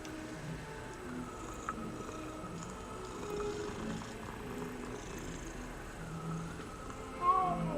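A cat in the video game Hogwarts Legacy purrs while being petted, a soft, steady low rumble that runs unbroken throughout with faint background game ambience.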